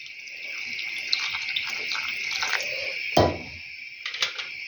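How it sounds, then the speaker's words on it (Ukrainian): Steady hissing stream of warm water pouring into a cooking pot of meat, with a brief splashy burst partway through and a few light clinks near the end. "Тепер візьму теплої води"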